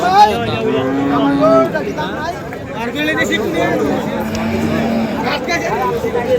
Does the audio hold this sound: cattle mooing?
yes